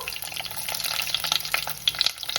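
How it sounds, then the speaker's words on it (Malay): Chopped onions hitting hot oil in a pan, making a close, crackly sizzle with scattered pops and stirring clatter that swell and fade over a couple of seconds. "Kita panaskan minyak. Bila minyak dah panas tu. Tumiskan bawang holland kita tadi"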